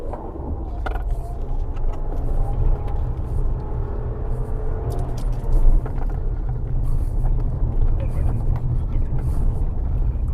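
Tata Punch compact SUV driving over rough off-road terrain, a steady loud low engine and tyre rumble with knocks and rattles from inside the cabin, while someone talks over it.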